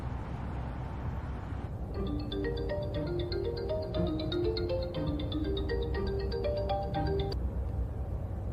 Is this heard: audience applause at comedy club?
no